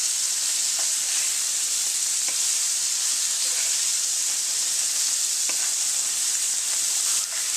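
Entrecote steaks sizzle and fry in a pan, a steady, loud broadband hiss with occasional small pops, continuous throughout with no voices.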